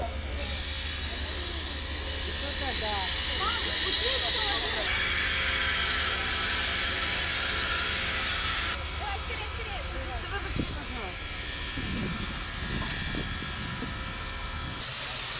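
A train sits at a station in Sortavala, Karelia, its steady hiss of steam or air running throughout, with people talking and moving nearby.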